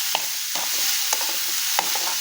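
Mashed potato dosa filling being sautéed in a pan, with four scraping stirs against a soft steady sizzle, each stroke a brief gritty swish.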